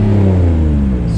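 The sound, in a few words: car engine revving with an exhaust leak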